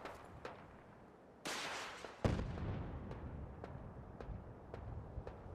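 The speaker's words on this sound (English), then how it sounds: "And that's a missile launcher." A missile launcher fires during a Fallout 4 firefight, a sudden loud broadband blast followed by a second heavy boom and a rumbling tail, with faint scattered distant shots continuing afterward.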